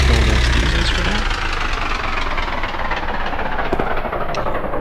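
Simulated U-boat diesel engines running in a submarine game: a loud, steady, close mechanical rumble with a rhythmic knocking chug and no pauses.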